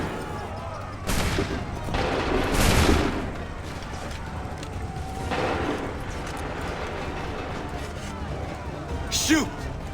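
A musket volley in Assassin's Creed 3 Remastered: a few loud, near bursts of massed gunfire in quick succession, then another burst mid-clip, under shouted voices and battlefield commotion.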